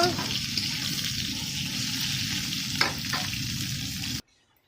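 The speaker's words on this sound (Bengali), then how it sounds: "কপিগুলো একটু সাঁতলানো হয়ে গেছে, আর একটুখানি ভাজা হলে তুলে নেব" Cauliflower florets sizzle in hot oil in a pan while being stirred, a steady crackling fry with a couple of sharp scraping clicks before it cuts off abruptly.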